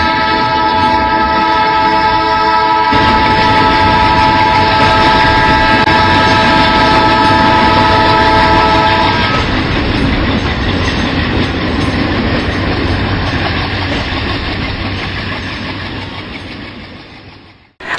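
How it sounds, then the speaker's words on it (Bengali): A train passes close by with a long horn blast at the start, then a loud, continuous roar of wagons and rattling wheels that gradually fades away near the end. "ট্রেন আসতেছে"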